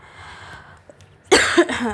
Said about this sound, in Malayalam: അപ്പോൾ ചെറിയൊരു ചുമയുണ്ട്